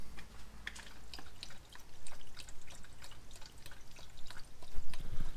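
Pre-mixed Nulon coolant pours into a car radiator, giving a steady liquid trickle with scattered drips and splashes, close up and moderately quiet, with no talking.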